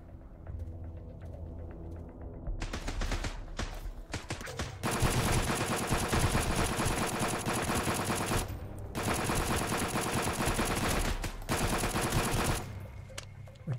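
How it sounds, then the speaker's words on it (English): Enemy gunfire in the survival shooter Sunkenland: long, dense bursts of rapid automatic fire, loud and close. A couple of short pauses break the firing before it resumes at full intensity. "One is shooting from around there."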